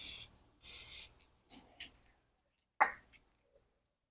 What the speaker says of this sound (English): spraying these holes in these things with a little fluid film